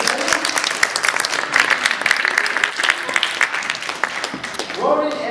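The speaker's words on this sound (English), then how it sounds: "Let's give Ronan and Zevin a big round of applause." An audience claps for two student volunteers after a magnetism demonstration at a science show, dense clapping running throughout with a voice or cheer rising near the end.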